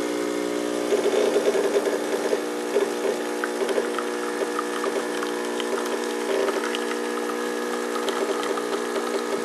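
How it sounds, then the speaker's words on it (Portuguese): A Mondial C08 espresso machine pump hums and buzzes steadily while extracting espresso, close and continuous, with light rattling pulses on top and no talk. "agora eu vou extrair o expresso"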